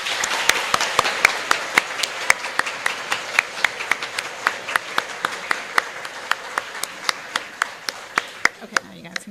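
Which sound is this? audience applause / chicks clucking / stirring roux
audience applause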